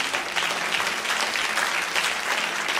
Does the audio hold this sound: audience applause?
yes